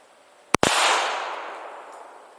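One sharp, loud crack from a Beretta M9A1 .22 pistol firing Federal lead round nose ammunition at 5 yards, followed by a long, fading ring and echo.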